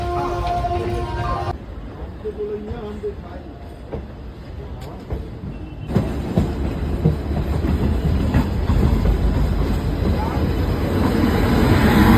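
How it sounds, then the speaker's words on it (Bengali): The 12311 Netaji Express pulls out of Howrah station, its loud rolling rumble growing steadier with faint wheel clatter, while voices talk nearby in the carriage. "আমাদের ট্রেন কিন্তু ছেড়ে দিল হাওড়া স্টেশন থেকে।"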